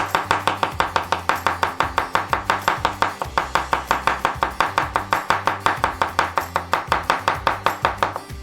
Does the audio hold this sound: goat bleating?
no